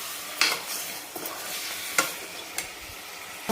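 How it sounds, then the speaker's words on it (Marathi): Mutton sautéing for a village-style dry mutton curry in a pan on full gas: a steady bright sizzle, close up, broken by four or five sharp stirring scrapes at irregular intervals, with no talking. "चांगले 4-5 मिनिट आपल्याला याला परतून घ्यायचं।"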